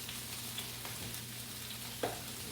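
Potatoes sizzling in a smoking hot pan, a steady dense crackle and hiss with a few sharper pops, continuous and close with no talk.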